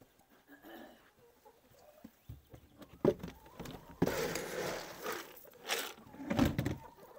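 Chickens clucking and shuffling in a nesting box on a homestead, with scattered soft clucks giving way to louder, busier bursts of fowl noise and rustling close by.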